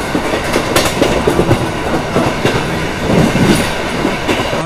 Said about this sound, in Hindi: सूरज ढलने के बाद अलीगढ़ को ट्रेन ने जिस रफ्तार में स्किप किया उसका बिल्कुल भी पता नहीं चला